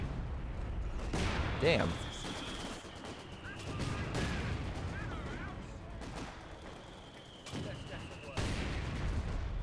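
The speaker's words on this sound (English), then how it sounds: "the mortars are opening fire" Mortar rounds firing and landing in the WWII strategy game Company of Heroes 2: a few sharp, booming blasts spaced across the stretch against a low rumble of battle, with someone talking over the action.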